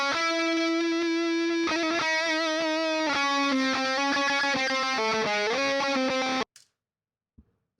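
A dry, heavily distorted electric guitar solo from a metal mix, with no reverb or delay, plays sustained bent notes and shifting phrases for about six seconds before stopping abruptly into near silence with a couple of faint clicks.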